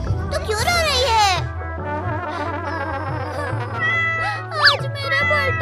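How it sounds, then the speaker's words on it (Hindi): A cartoon cat cries out in long, wavering, high-pitched meows, closely miked and alone, with a brief sharp rising yelp near the end over a low sustained background tone. "अरे बिल्ली तू क्यों रो रही है?"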